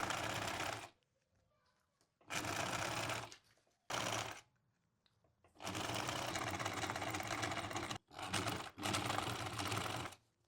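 A sewing machine stitches a second seam on wide-leg linen pants in several stop-start bursts, each a fast mechanical whir separated by short quiet pauses.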